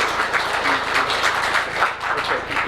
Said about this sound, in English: We all know the applause was more for Emily than anything else